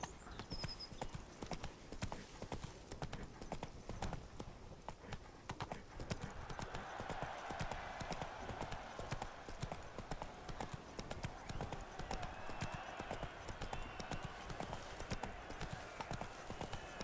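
Horse hooves clip-clop steadily on the ground in The Witcher 3, a continuous rhythmic trot lasting throughout, fairly close and moderately loud with game ambience beneath.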